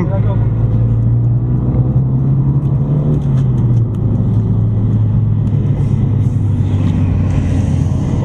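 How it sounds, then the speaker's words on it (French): A car lapping the Nogaro circuit gives a loud, steady engine drone and road rumble from inside the cabin, with a shift in pitch partway through. No distinct tyre bangs stand out. "si t'entends des bam bam bam, c'est normal. Ouais, c'est des pneus"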